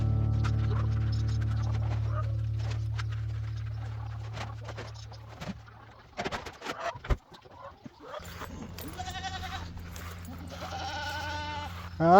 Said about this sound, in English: I got you nice fresh food here, goats.